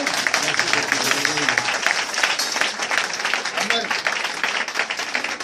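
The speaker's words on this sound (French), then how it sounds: "Est-ce qu'on peut acclamer Jésus?" A church congregation at a worship service claps and cheers for Jesus, dense sustained applause with voices shouting over it, loud and close for several seconds.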